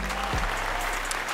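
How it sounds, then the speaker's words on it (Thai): Audience applause at a Thai rap competition show, a steady wash of clapping that holds for the whole short clip at an even, full level. "ปรบมือกับทับทับด้วยครับ"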